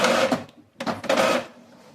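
An Epson EcoTank M2170 printer prints an alignment page. Two close, loud mechanical bursts of feeding and print-head movement are separated by a brief pause, then fade into a low hum.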